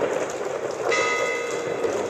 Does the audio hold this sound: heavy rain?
yes